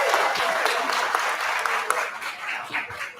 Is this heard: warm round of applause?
yes